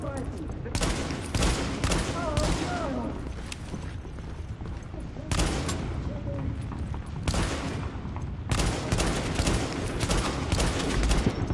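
Enemy automatic gunfire in The Division, in a subway morgue level, with rapid bursts of shots repeating across the whole stretch over game ambience while someone talks.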